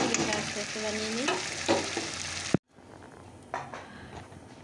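Roti frying in a pan gives a steady, close sizzle with stirring scrapes. It cuts off abruptly partway through and then returns softer.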